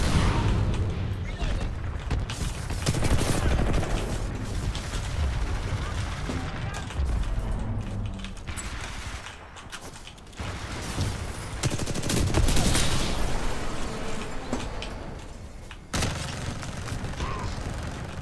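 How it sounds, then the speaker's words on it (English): Constant gunfire fills a Titanfall-style video game battle in an open field, with dense overlapping bursts, booms and crashes that stay loud and continuous, while a player talks over the action. "He's got like four people shooting at him."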